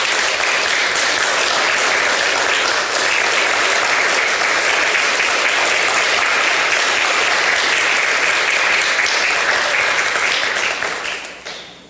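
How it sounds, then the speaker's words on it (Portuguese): A church congregation claps loudly and continuously in praise of Jesus, a dense sustained wash of applause that holds strong before fading at the end. "Dê uma salva de palmas para Jesus"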